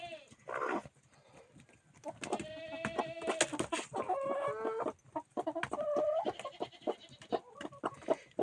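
Hens, including a broody hen, cluck and squawk agitatedly at close range in a yard in frosty weather, with sharp bursts and rising calls, while a person talks in between.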